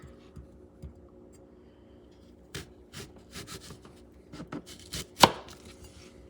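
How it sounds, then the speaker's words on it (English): A knife slicing food on a cutting board while making a shrimp tostones sandwich: quiet, sparse cuts at first, then a quicker cluster of taps and one sharp, louder chop near the end, with no talk. "Then I'm going to slice it."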